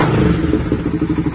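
Suzuki Supra GTR 150 motorcycle with a racing ECU, its engine loud and close, revving in quick repeated throttle blips that pulse rhythmically over a steady low exhaust rumble.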